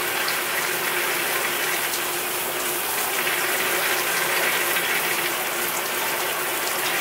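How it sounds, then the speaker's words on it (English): Shower water runs and splashes in a steady, close, hissing spray that continues without a break. "The water is going everywhere."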